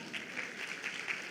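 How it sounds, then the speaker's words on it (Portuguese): A church congregation claps and applauds during a sermon, a soft, steady patter of many hands heard at a distance and moderately quiet, with no voices. "Aplauda o Senhor."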